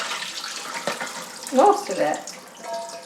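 Water from an orchid pot filled with bark is dumped into a sink, giving a short burst of splashing and running water alongside a brief spoken remark.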